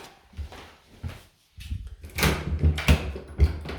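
A white door with a loose handle and peeling paint is handled up close, giving a few rattling knocks and clunks, then a cluster of louder thumps and latch clatters after a short silent gap.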